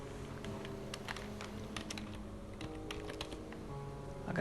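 Keys clatter on a computer keyboard as a search term is typed into Windows, a steady run of close, crisp clicks over faint background hum.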